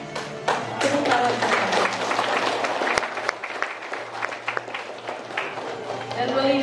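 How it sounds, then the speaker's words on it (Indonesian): Audience applause at a class 9 farewell ceremony, a dense, steady clapping from a crowd that carries through the whole moment with some scattered louder claps. "tepuk tangan."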